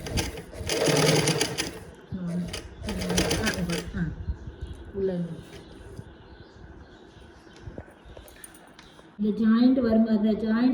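A sewing machine stitches a boat neck blouse in short rapid bursts of needle clatter separated by pauses, close and fairly loud, with someone talking throughout.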